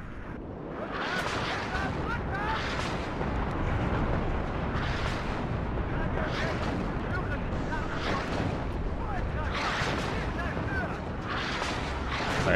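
Artillery shells strike over and over in a tank battle game pitting Leopard tanks against defending Russian forces: heavy, rumbling booms land every second or two over a constant loud roar of battle noise.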